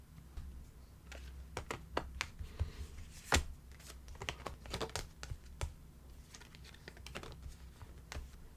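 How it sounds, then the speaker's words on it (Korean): Tarot cards are shuffled and drawn, giving quiet, scattered card flicks and soft slaps in an irregular patter, faint and close, with no talking. "여러분 좀 더 여기 추가 카드 디테일 한번 뽑아볼게요"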